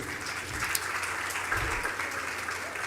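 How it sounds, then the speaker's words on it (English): Warm audience applause welcoming speaker Suhail Seth at a social media conference in Mumbai, continuous clapping with a few louder claps. "let's have a huge round of applause for Mr."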